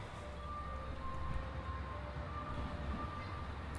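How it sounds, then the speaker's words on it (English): Low, steady rumble of a Chizu line local train idling or rolling slowly at Tottori Station, with faint electrical whine and a constant hum throughout. "This is one of the Chizu line local trains."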